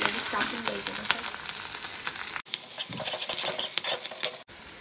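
Curry leaves hit hot oil in a pan and fry with a dense, bright sizzle, spattering crackles and light stirring running steadily throughout.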